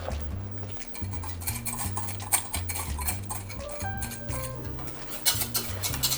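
Utensils clink against a pot as an egg, sugar and cornstarch mixture is stirred into boiling milk for flan, with steady background music over the stirring.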